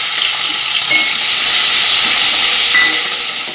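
Large chunks of onion are stirred in hot oil, giving a loud, steady hissing sizzle with faint scrapes of stirring, close up and unbroken for a few seconds, with no voices.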